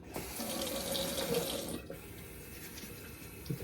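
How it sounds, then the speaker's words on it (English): Tap water runs steadily into a sink while hands are rinsed beneath it, a close, continuous splashing hiss that cuts off abruptly partway through, leaving a quieter bathroom room tone. "Get the hands rinsed off here."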